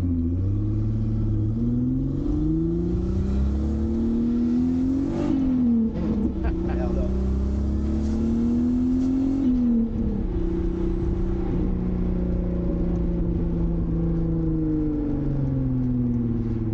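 An Alpine Calberson car's engine and turbo drone steadily from inside the cabin while driving, the pitch rising and falling with the revs, with a deep rumble underneath throughout.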